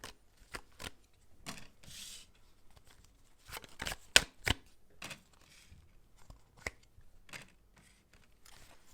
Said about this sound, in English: I still have to pull more cards to clarify it.